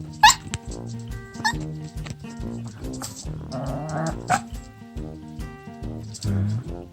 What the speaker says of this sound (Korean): 왜 짖어?